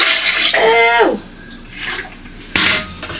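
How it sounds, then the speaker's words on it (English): Dirty water pours out of a UWANT D100 wet vacuum's tank in a short gushing splash, with brief voices over it and a sharp clatter near the end. "I'm gonna pour this water out real quickly."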